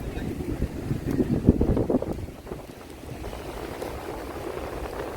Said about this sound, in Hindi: यहाँ पे अभी इस वक्त बहुत तेज हवा चल रही है।